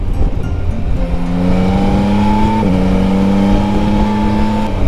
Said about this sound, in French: un truc en plus que j'aime bien avec ce genre de moto coupleuse, tu te régales toujours, t'as toujours de la patate